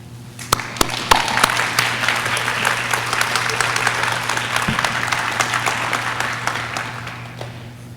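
An audience at a nurse pinning ceremony claps steadily for the graduating nursing students, sustained loud applause filling the room with a few sharper individual claps standing out.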